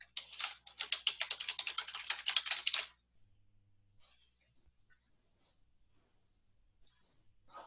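Fingers type quickly on a computer keyboard while someone writes C# code: about three seconds of rapid, close key clicks, followed by near silence with a few faint, scattered taps.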